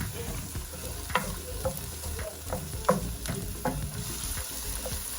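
Oil sizzles steadily in a pan as food fries for lasagna, with a few soft clicks and scrapes of stirring scattered through the close, even crackle.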